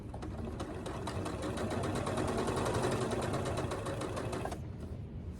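A Handi Quilter longarm quilting machine stitches a tote bag, its needle hammering in a fast, steady mechanical rhythm with a motor hum, loud and close, then stopping abruptly near the end.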